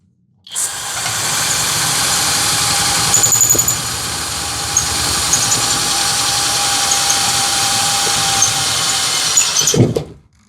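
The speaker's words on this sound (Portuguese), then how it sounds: "uma máquina conseguiu fazer a perfuração com essa broca de 25 mm nesse metalão de chapa" Hanabi LJ-2023 cordless drill driving a 25 mm bit through a sheet-metal tube: a loud, sustained motor whine and grinding for about ten seconds with small surges as the bit bites, ending abruptly when it binds.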